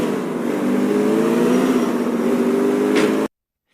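Car speeding along in the GTA IV video game, a loud, steady engine drone with rising tonal whine held for about three seconds before cutting off abruptly into silence.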